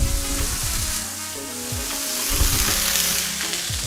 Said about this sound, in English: so I'm going to rinse that out and then reheat it one more time